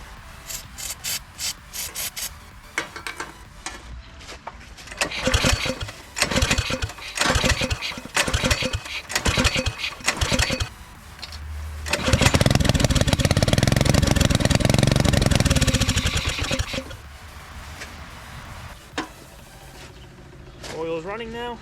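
A turbocharged Predator small engine cranks with rough sputtering bursts, then catches and roars loudly at steady revs for several seconds before dropping back and sputtering; voices talk at moments around it.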